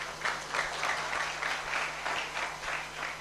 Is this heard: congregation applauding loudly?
yes